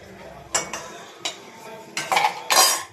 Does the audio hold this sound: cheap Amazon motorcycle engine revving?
no